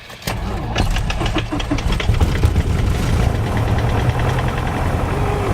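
A propeller aircraft engine cranks and catches, then settles into a loud, steady rattling idle that runs close and continuous.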